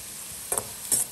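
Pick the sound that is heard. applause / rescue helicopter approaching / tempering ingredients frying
tempering ingredients frying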